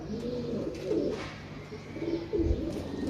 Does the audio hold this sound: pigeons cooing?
yes